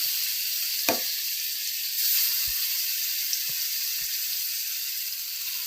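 Chhana (cottage cheese) mixture frying in melted ghee on a gas stove, giving a loud, continuous bright sizzle, broken by a few soft knocks of the stirring spoon.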